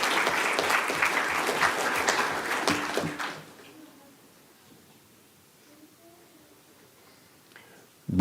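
An audience at a school board meeting applauds loudly for about three seconds before the clapping dies away into a quiet room, with a brief sound right at the end.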